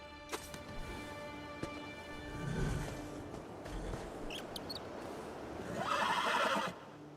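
Horse neighing in the video game Elder Scrolls Online, two whinnies rising out of a faint in-game ambience, one near the middle and a louder, longer one near the end, with light hoof clops between.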